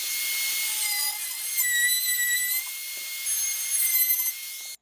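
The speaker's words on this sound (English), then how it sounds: "Just put a chamfer bit in my little Ryobi palm router, and I am going to go this way and put a little chamfer on there." A small Ryobi palm router with a chamfer bit cuts an edge on wood for an Adirondack chair, a loud continuous high-pitched whine with slight dips in pitch as it moves along the board.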